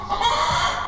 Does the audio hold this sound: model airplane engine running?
no